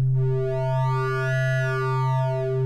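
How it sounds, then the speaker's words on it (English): A pure sine waveform from Ableton's Drift synth, played as a steady sustained note with a faint upper shimmer, holding for about three seconds at even loudness with no other sounds. "So here's the sine waveform, and I'll go ahead and turn off oscillator 2 for now."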